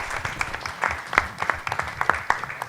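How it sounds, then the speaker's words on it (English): Applause from a modest audience at a Land Accelerator South Asia demo day, with scattered, uneven handclaps that sound fairly close and moderately loud and come in irregular bursts rather than a dense roar. "let's give them a round of applause for the amazing work they're doing."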